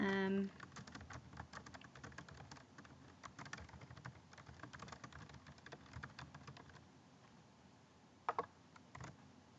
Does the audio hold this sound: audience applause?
no